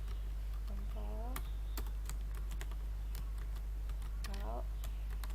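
A computer keyboard tapped to enter the Ctrl Alt G shortcut in Photoshop, with scattered sharp key clicks spread across a few seconds over a low steady hum, and brief voice sounds in between.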